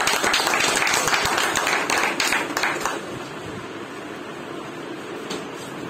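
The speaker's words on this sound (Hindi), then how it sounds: "तो एक बार जोरदार ताली।" A seated audience at a business motivational talk breaks into a loud round of clapping that fades after about three seconds into steady room noise.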